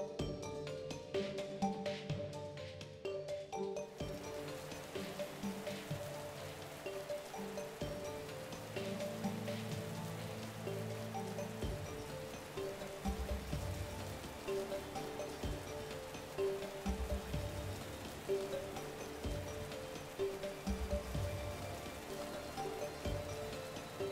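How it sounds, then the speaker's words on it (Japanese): Blue rain falls in the game Path to Nowhere, a steady soft patter of rain on surfaces lasting throughout beneath a low sustained musical backdrop, with no voices. "あいつが最も恐れてる青い雨が降ってるから、外にはいないはず"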